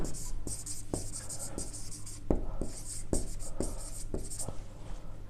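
A pen writes out a trigonometry maths solution on paper: close scratchy strokes and taps in an uneven rhythm, continuing throughout without pause.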